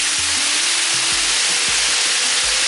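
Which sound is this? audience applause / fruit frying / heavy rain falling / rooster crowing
fruit frying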